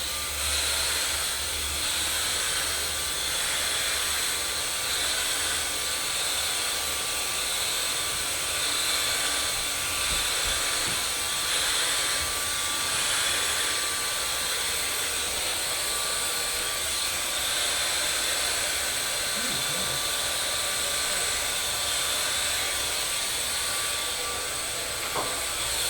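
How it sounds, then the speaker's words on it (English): A hair dryer blow drying freshly dyed hair during a live hair-colouring class, a loud, steady, unbroken airy roar running throughout with no talking over it. "go ahead and start blow drying that"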